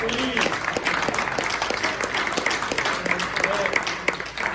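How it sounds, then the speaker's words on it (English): Audience applause for a presenter named Timothy at Code Night PVD, a tech meetup talk on building a ChatGPT clone, a dense, steady patter of clapping that fills the room, with a few voices audible over it. "Let's give another round of applause for Timothy."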